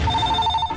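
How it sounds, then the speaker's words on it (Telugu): A telephone bell rings loudly and steadily in an indoor film scene, a sustained electronic trill filling the short moment with no talk over it. "ఫోన్ మోగేసింది"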